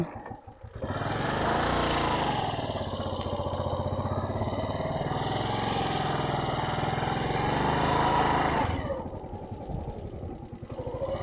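A motorcycle engine runs close by at a steady, rough idle for most of the stretch, then cuts off abruptly near the end.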